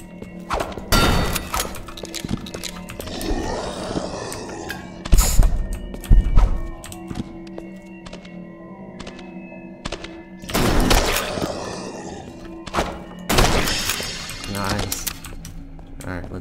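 Shotgun blasts are fired at ghouls in the game HellSign, several loud booming shots spread across the stretch, with clatter between them and a person talking over the action.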